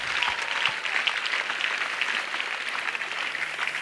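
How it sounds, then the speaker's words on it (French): Steady clapping and cheering from a congregation during an intercession prayer service, a continuous dense wash of hands with no voice over it. "Ovations."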